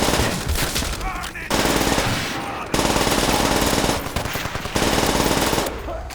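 A PPSh submachine gun firing in Call of Duty: World at War, loud and close, with long rattling bursts broken by short gaps.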